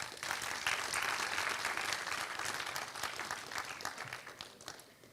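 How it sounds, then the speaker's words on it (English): Audience applause fills an award ceremony hall, dense clapping that starts strong and gradually thins out over several seconds. "Let's give them a round of applause."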